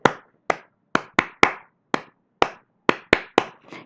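Rhythmic NCC or scout-style hand clapping: about a dozen sharp, close claps in a grouped pattern of singles and quick pairs, with brief pauses between groups and no talking.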